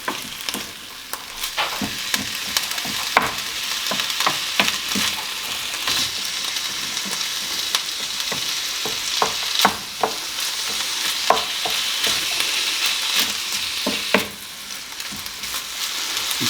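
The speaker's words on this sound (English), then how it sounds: "Mix that to sizzle, which is good." Mince, onions and peppers sizzle steadily in a hot frying pan, with frequent scraping and clacking as they are stirred, close and fairly loud with no talking.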